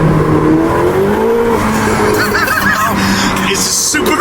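A 2023 Ferrari 488 Pista accelerates hard, its engine note rising steadily in pitch over several seconds as a loud, continuous roar, with a rising whine and brief squealing layered on top.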